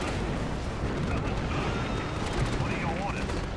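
Artillery battery in the Axis & Allies strategy game firing amid a dense, continuous roar of battlefield explosions and gunfire, loud and unbroken, with someone talking over the din.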